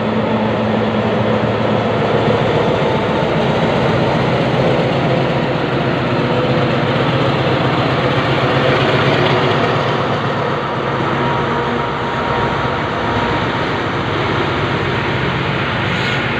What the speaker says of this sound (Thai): ก็ตอนนี้ก็ได้เวลาปล่อยขบวนรถด่วนพิเศษช่วยการโดยสารนะครับช่วงเทศกาลสงกรานต์ 2566ด่วนพิเศษขบวนที่6ออกจากสถานีนครลำปางครับ